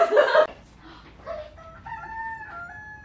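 A chicken crows and clucks, a loud burst at the start followed by fainter rising calls in a quiet indoor setting.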